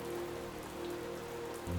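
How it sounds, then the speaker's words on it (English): Steady rain dripping and splashing on surfaces all around, a dense close patter with a low bump near the end and no voices. "Can you hear the rain drip, drip, dripping all around you?"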